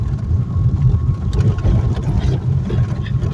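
Motorboat engine heard from on board during a ride, a loud steady low drone with a churning throb that holds without break under faint background noise.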